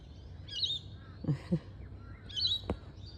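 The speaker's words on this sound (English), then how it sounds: "Enjoying the birds?" Birds chirp and tweet in short high calls, a few scattered notes over a quiet outdoor background.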